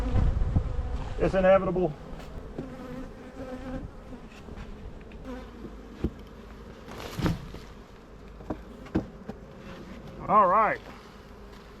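Honey bees buzz around an opened beehive, a steady close drone with a few louder passes as insects fly near, while someone speaks briefly under it.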